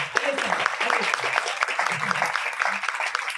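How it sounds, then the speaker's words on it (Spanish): An audience at a book presentation applauds a family, steady clapping with a few voices briefly audible underneath. "Un aplauso para esta familia."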